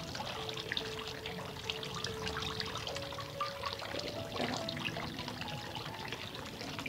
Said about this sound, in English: I'm going to add in the juice of half a lemon, just to add a little acidity